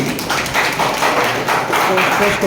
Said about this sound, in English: Please give a big round of applause for the next team.